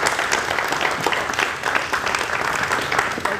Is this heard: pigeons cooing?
no